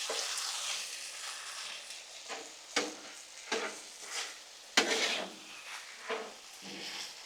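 Peppers, onions and meat sizzle on a Blackstone griddle while a spatula scrapes and stirs them together, steady frying hiss broken by several sharp metallic scrapes and clacks, close and alone.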